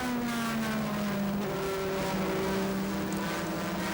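Super GT race cars from 2005 roar around Sepang Circuit, engines droning steadily with rising and falling pitch as they pass, a continuous mid-distance whine with no voices.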